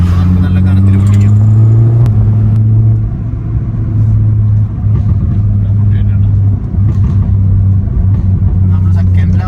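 A Honda City with a modified exhaust rumbles deep and loud, its engine rising and falling in pitch as it revs and pulls, while someone talks over the sound.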